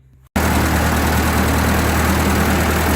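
A 1945 Ford 2N tractor engine catches abruptly after a faint moment and settles straight into a loud, steady low idle, rumbling close and unbroken, with no voices over it.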